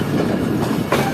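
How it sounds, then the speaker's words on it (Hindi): The Hazara Express rolls into Hyderabad Junction railway station with a steady, loud rumble of carriages and wheels on track, heard from on board as one continuous wash of sound with no voices. "हमारी ट्रेन पहुंच रही है हैदराबाद जंक्शन रेलवे स्टेशन पर।"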